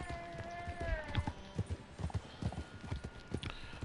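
Steady clip-clop of horse hooves at a trot in Red Dead Redemption 2 Online, regular and close, with a brief whinny early on and game-like background tones.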